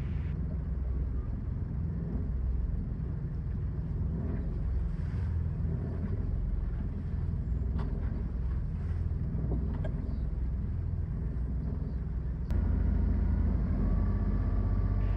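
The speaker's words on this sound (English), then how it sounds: "causing a bit of rocking as the local watermen's boats cruise by" Local watermen's workboats cruise past through Knapps Narrows by a bascule bridge, a steady low engine drone and water wash with wind buffeting, swelling louder and closer near the end.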